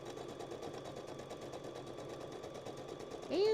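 A sewing machine stitches steadily at a fast, even speed, a quiet continuous whir with a brief louder bump at the very end and no talking.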